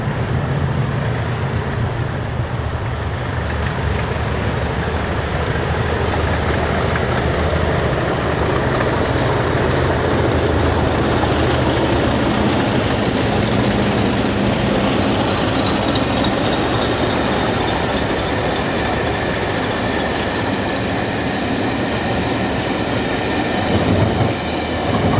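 Locomotives 2107, 2118 and 2132 haul an LSL charter train from York to Keighley. Loud, sustained engine rumble and rolling wheel noise pass close by for about 25 seconds, with a high whine that rises and then falls.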